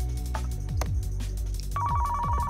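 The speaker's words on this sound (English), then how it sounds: "it told us about this phone ringing before, and I couldn't find the phone" A phone rings in the Car Mechanic Simulator 2015 garage, a steady electronic ringtone tone coming in near the end over a busy, continuous game background.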